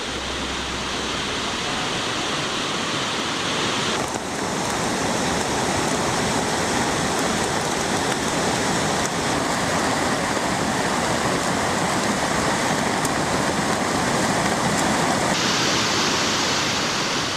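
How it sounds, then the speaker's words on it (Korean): Rain-swollen stream rushing through Eorimok valley on Jeju, a loud continuous broadband roar of flowing water with no pauses and no voices. "물이 흘러넘칩니다."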